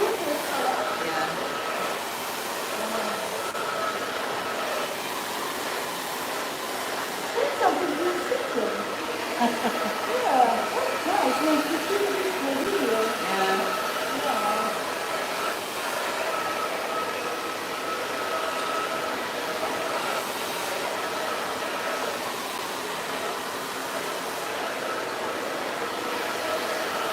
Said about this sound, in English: Usually when I do my hair, I blow dry a little bit